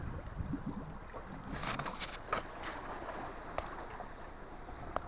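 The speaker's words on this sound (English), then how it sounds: "It's gurgling every time the waves come in." Seawater sloshing and gurgling among shoreline rocks as waves come in, with soft surges and a few brief splashy bursts over a steady low wash, fairly close.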